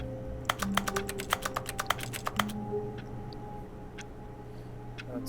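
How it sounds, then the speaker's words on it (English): Computer keyboard typing in a game setting, The Stanley Parable: Ultra Deluxe: a quick run of about a dozen sharp close clicks, then a few scattered taps over a low steady hum, no talk. "Makes no sense why I'm making keyboard noises over here"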